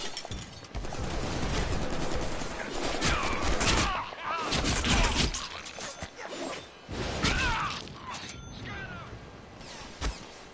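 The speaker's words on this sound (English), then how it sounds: "Did you just shoot at me?" Gunfire in the Deadpool video game: repeated bursts of shots and sharp impacts across a dense, loud action scene, mixed with whooshes and brief voice fragments.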